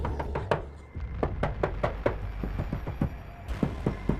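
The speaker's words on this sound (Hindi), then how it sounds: "पीट पीट के दरवाजा तोड़ देगा का?" Repeated heavy banging on a wooden door at night, a rapid irregular series of loud close knocks and thumps continuing throughout.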